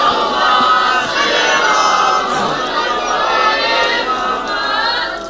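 At a Shia majlis, a large crowd loudly recites salawat together, a dense roaring mass of voices in unison that swells and holds steadily, filling the hall.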